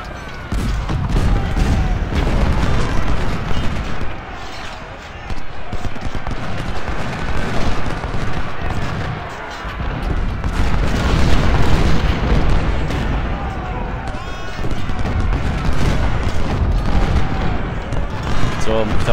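Massed musket volleys and booming cannon fire from an Ultimate General: Civil War battle at Shiloh, a continuous loud rumble of rolling shots and blasts with a voice talking over it.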